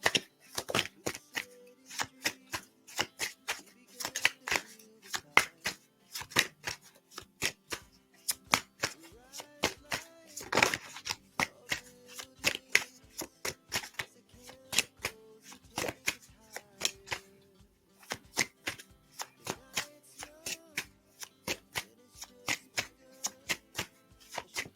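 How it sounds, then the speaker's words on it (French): Tarot cards being shuffled by hand in a quiet room, a long run of dense, crisp riffling and slapping flutters with short pauses, close and fairly soft, with no talk over it. "j'étais en train de bouger un peu les cartes et je vais les mélanger"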